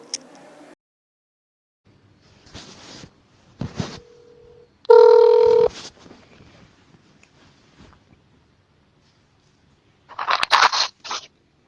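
A telephone call rings out in a few separate bursts, including one loud electronic tone and a final cluster near the end, with quiet gaps between them.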